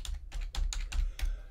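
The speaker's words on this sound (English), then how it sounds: "I'll type it in the chat." Typing on a computer keyboard: six or seven quick, close keystroke clusters in an uneven rhythm over a low background hum, with no talking.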